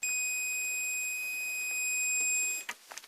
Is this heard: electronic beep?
yes